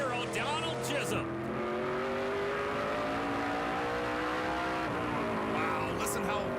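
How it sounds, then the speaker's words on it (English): At Riverside Speedway during the 2014 Wilson Equipment 300, a race car engine holds full throttle on the oval, a loud, sustained, slightly wavering roar with a brief shift in pitch partway, and a commentator talks over it. "listen how long he's on the throttle"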